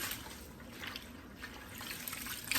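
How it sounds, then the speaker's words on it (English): Tap water running over fresh collard greens being rinsed in a sink, a steady close splashing hiss with a few small drips, alone without speech. "that you're getting them all well rinsed off"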